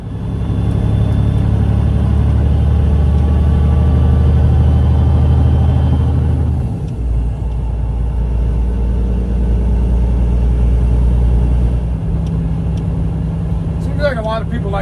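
A semi truck with a manual gearbox, its engine droning loud and close from inside the cab. The rumble dips and shifts pitch as gears change, and someone talks over it.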